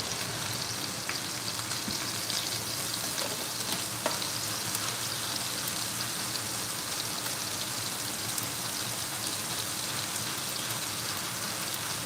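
Onions frying in a pan, a steady dense sizzle and crackle that stays even and close from start to finish, with no talk over it.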